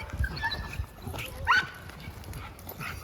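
American Sentinels and American Pit Bull Terriers in a yard bark and yip excitedly at a flirt pole in a few short, overlapping bursts.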